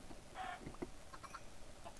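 Soft chicken clucks and short squawks from a video game come in scattered bursts at low volume over a faint background hum.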